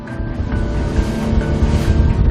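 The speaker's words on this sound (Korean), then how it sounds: "육지에서 멀어질수록 더욱더 거세게 출렁이는 바다." Rough open sea heaving around a small fishing boat heading out from shore for mussel harvesting, a steady loud wash of water and wind buffeting the microphone, with a low engine drone underneath and no talking.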